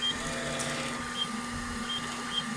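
A 3D printer lays down a part at 0.32 mm layers, a steady low motor hum with faint high stepper whines that come and go, moderately close and without talk.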